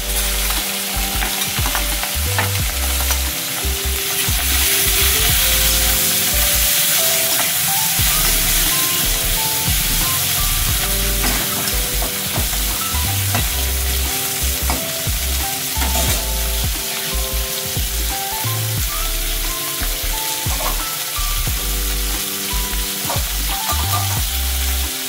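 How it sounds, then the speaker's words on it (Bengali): Salt-and-turmeric-coated shrimp fry in hot oil in a wok with a loud, dense, constant sizzle and crackle that lasts throughout, with steady stirring and no voices. "তেলটা আমি গরম করে নিয়েছি। এবার নুন হলুদ মাখা চিংড়িগুলোকে একটু নেড়ে চেড়ে নেব।"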